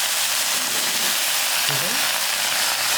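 Beans dropped into a hot pan fry with a steady, dense sizzling hiss that holds evenly from start to finish, close and fairly loud.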